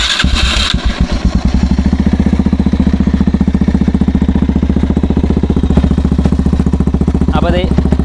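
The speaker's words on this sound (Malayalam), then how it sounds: "അപ്പോൾ ഇതാണ് ഇതിൻ്റെ എക്സോസ്റ്റ് നോട്ട്" A handmade quad bike fitted with a Pulsar motorcycle engine and an aftermarket exhaust starts up close by, then idles in a loud, fast, bassy thump, with a brief rev near the end.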